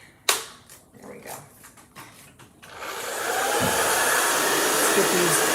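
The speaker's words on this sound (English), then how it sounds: "hair dryer that I've been using to dry projects" An old hair dryer switches on and blows a steady, loud whoosh to dry craft projects in a small makeshift studio, following a few brief knocks and handling sounds.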